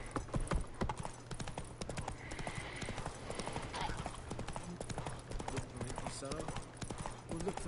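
Rhythmic clip-clop of horse hooves trotting steadily in the video game The Witcher, with a faint whinny and a voice talking over it.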